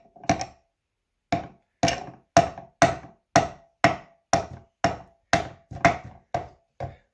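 A toy hammer from a Melissa & Doug wooden toolkit strikes repeatedly, about twelve sharp close knocks in a fairly even rhythm after one isolated first hit, with no talking between them.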